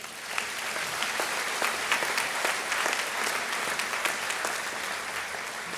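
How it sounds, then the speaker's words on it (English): Dense, steady applause from a large graduation ceremony crowd at Libertyville High School in 2021, many hands clapping at once in an even wash that holds for the whole stretch. "That deserves a round of applause."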